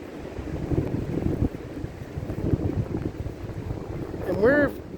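Blizzard wind gusts roar around a sheltered homestead yard on an arctic day, a steady low rumbling buffet with swells, ending in a brief harmonic whistling tone near the end.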